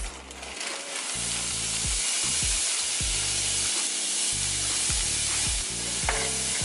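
Mixed vegetables sauté in butter for fried rice, giving a steady close sizzle broken by repeated scraping and stirring clatter of a utensil in the pan.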